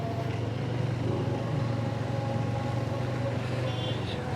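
Slow two-way traffic crawls across a narrow, congested bridge in Balakot, a constant low rumble of idling and creeping engines with a faint horn near the end.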